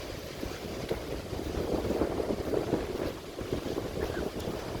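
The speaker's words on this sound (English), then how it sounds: "And you can feel the coolness in the breeze today." Breeze off the Atlantic at Jacksonville Beach, Florida, buffeting the microphone in a steady, close rush that swells and eases, with faint surf beneath and no talk.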